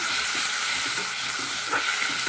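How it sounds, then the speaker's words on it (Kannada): Onions sautéing in hot oil for an Andhra-style prawn curry, a steady close hiss and sizzle with faint stirring clinks, no voices. "ಇದಕ್ಕೆ ಇವಾಗ ನಾನು ಈರುಳ್ಳಿಯನ್ನು ಹಾಕ್ತಾಯಿದ್ದೀನಿ ರೀ ಸ್ವಲ್ಪ ಈರುಳ್ಳಿ ಹಾಕಿ ಬಾಡಿಸ್ಕೊಳ್ಳೋಣ"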